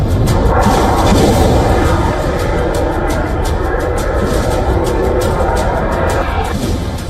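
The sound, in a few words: explosions and air defense fire at night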